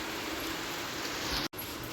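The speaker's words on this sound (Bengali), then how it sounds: "বৃষ্টি তো নেমে গেছে জোরে নামলো নেমে আবার একটু আসতে হয়ে গেল" Rain falls steadily on an open rooftop, making a dense, even hiss at close range with one brief dropout and no voices.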